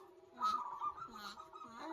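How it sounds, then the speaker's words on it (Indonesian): Several wild perkutut zebra doves call in soft, tonal coos that rise and fall in a repeating pattern, heard fairly close and with no talking over them. "Itu ada burung perkutut liaran bagus, burungnya do bunyi kabeh."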